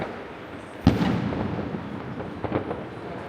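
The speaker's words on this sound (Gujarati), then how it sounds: "અહીંયા બી બધા બહુ ફટાકડા ફોડે." Fireworks and firecrackers bursting in rainy weather during Diwali in London: one loud sharp bang followed by a few fainter, more distant pops against a low rumbling background.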